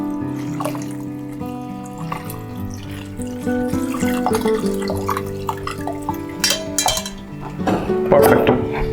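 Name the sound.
rinsing cooked noodles with water in a strainer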